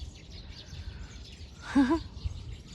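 A short bird chirp rises briefly out of a quiet outdoor background, with a faint low rumble underneath.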